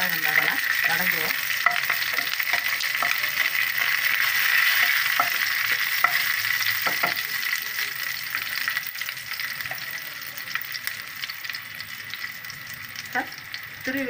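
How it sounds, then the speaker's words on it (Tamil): Chopped ginger and garlic sizzle in hot oil in a pan while cooking coconut rice, a steady close frying hiss with occasional stirring clicks and scrapes, no talking. "இப்போ நறுக்கி வச்சுருக்கா இஞ்சியை அதில் போட்டுருவோம். பூண்டையுமே அதில் போட்டுருவோம்."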